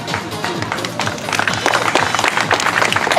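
Audience at a sea lion show clapping, scattered claps that build into denser applause partway through, with crowd noise and some voices in the background.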